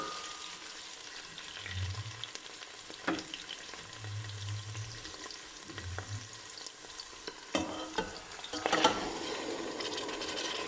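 Garlic and beef sauté in olive oil for manestra, giving a faint, steady sizzle with scattered utensil clinks, a few low hums and a louder scrape near the end.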